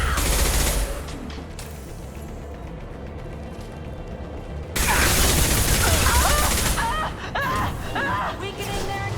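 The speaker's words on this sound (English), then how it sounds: "Taking heavy fire!" Heavy sustained gunfire in the Mass Effect 2 video game, loud dense bursts of rapid shots filling the whole stretch with a brief lull, while voices speak over the battle.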